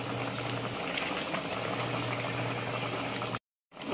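Ginataang labong, bamboo shoots simmering in coconut milk, bubbles at a steady boil with a dense, continuous burble and a low hum underneath, cutting to silence briefly near the end before resuming.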